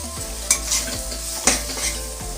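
Two green chillies dropped into a hot pan of oil, a continuous close sizzle punctuated by two sharp spitting crackles as they hit the oil, with a faint utensil scrape.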